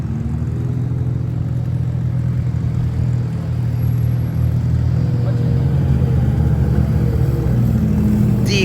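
A turbocharged Honda D15 car races a BMW at Vernam Field, heard as a loud, continuous engine drone with a deep rumble and a steady whirring note throughout.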